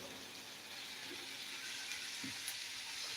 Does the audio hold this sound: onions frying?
yes